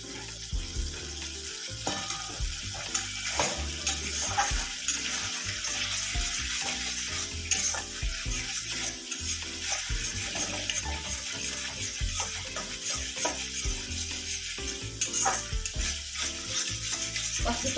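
Masala being sautéed for malai pabda fish in a pan, a steady close sizzle and frying hiss running throughout with scraping stir sounds and occasional clinks, no talking.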